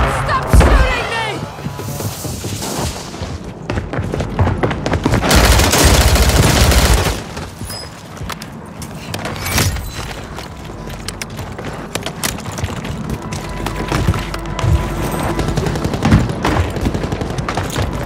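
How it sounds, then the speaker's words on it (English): Rapid bursts of automatic gunfire in the Warzone Resurgence video game crackle and thud repeatedly, with a dense, loud barrage in the middle, while a player talks over the shooting. "Stop shooting me!"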